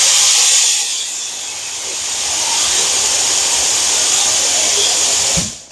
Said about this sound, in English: that air compressor purge is loud